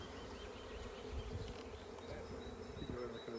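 Bees buzz steadily and loudly throughout an open beehive during an inspection, a dense continuous drone of many insects close by with no talking.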